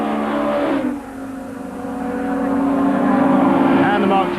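Classic and historic touring cars at a Mallory Park race meeting stream past the pits, a dense roar of several engines holding a steady, loud drone that dips briefly and then swells again as more cars pass close by.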